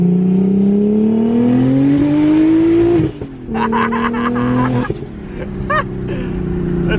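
A boat's engine runs loud and close, holding a steady droning tone that climbs in pitch as it revs, dips briefly around the midpoint, then settles back into a strong run.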